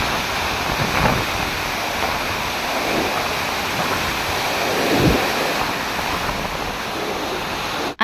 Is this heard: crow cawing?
no